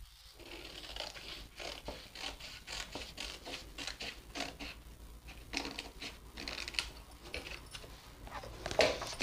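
Scissors cut through fabric to shape the back of a sleeve, giving a run of close, soft, crisp snips and scraping strokes at an uneven rhythm, fairly quiet with no talking.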